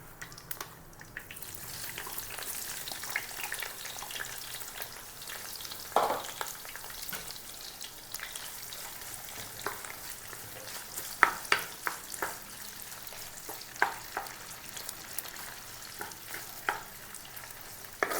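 Sliced big onions, about 250 grams, frying in oil for a crab curry, with a continuous soft sizzle and scattered scraping stir strokes throughout; quiet, steady and without talk.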